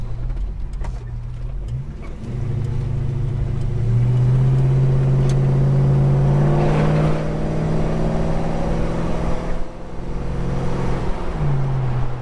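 A Holden HK car accelerates hard, its engine rising in pitch, dropping briefly at a gear change, then climbing again, heard loud and steady from inside the car.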